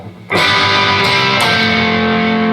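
A heavily distorted electric guitar chord rings out suddenly and sustains loudly, with a couple more strums layered on top before it slowly fades.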